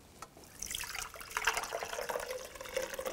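Cooked lemon jelly liquid is poured from a pot through a kitchen sieve, giving a short, soft, steady splashing trickle that swells midway and carries on alone without talk.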